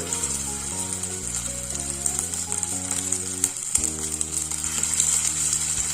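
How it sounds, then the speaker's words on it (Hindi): Sprout cutlets frying in hot oil in a kitchen pan, a steady bright sizzle running throughout under sustained musical tones, with no voices. "मतलब कि हमारा तेल बिल्कुल रेडी है। अब हम इसके अंदर डाल देंगे हमारे कटलेट्स"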